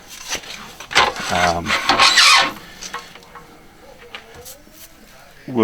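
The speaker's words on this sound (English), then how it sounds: "I'm gonna do a quick sand" A spinning workpiece gets a quick sanding, giving rough rasping bursts of abrasive friction over a couple of seconds, with quieter rubbing afterward and a voice speaking near the end.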